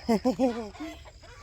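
A rooster gives a few loud, nasal clucking calls up close, the first ones strongest, trailing off into softer cackles.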